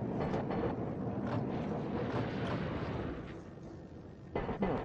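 Hakodate City tram type 710, car 724, running on the Yachigashira to Yunokawa line in Densha de Go, a steady rumbling roll with clattering wheel noise and a louder burst near the end.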